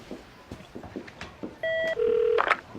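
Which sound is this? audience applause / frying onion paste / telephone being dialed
telephone being dialed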